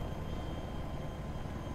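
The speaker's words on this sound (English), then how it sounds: "So this is how you turn the chopper" Attack helicopter in Battlefield 3 flying, a steady loud rotor and engine roar with dense low rumble, continuous and unbroken throughout.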